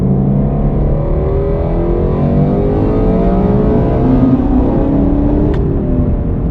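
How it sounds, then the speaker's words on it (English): A Ford Mustang GT350 or Chevrolet Camaro 1LE sports car engine revs and drones steadily, its pitch sweeping up and down through gear changes, loud and continuous throughout. "God, your car sounds good."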